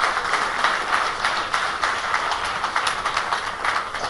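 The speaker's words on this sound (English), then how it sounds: "Please give him a good round of applause." A round of applause at a Blue Dart World CSR Day event, steady dense clapping from a gathered audience throughout, loud and continuous with no voices over it.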